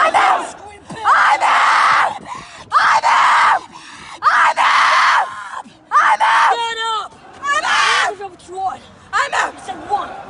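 A group of Marine Corps boot camp recruits screams back in loud, ragged bursts at a drill instructor, the shouted replies rising and breaking off repeatedly between harsh commands, with crowd voices overlapping throughout.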